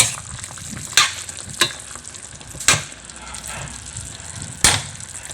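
Pork afritada sizzling in a pan after low carb tomato ketchup goes in, a steady frying hiss broken by four or five sharp scrapes and clacks of a spoon stirring against the pan, close and loud with no talking.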